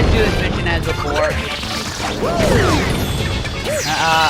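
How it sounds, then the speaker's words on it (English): Super Mario Galaxy 2 gameplay with rolling rock-form smashes against enemies, loud crashing and rumbling mixed with bright sliding game effects over continuous background music. "Although I do like smashing all these enemies with the rock power-up"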